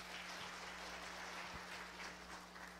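An audience clapping at a church conference: a faint, continuous wash of many hands applauding together, steady and distant, with a low hum beneath.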